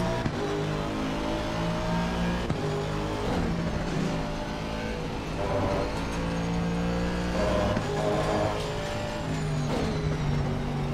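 A Ferrari racing car engine in a racing game at Watkins Glen, a steady high-pitched drone with shifting pitch as it revs and carries through corners, sustained for the whole stretch without talk.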